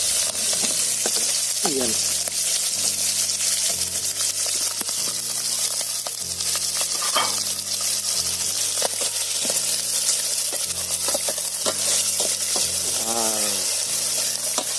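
Scallops sizzling and frying in a heated pot, a steady bright hiss running throughout with occasional stirring clatter, while a person talks over it at intervals.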